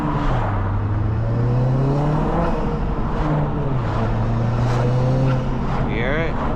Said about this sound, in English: I gotta show you the turbo noises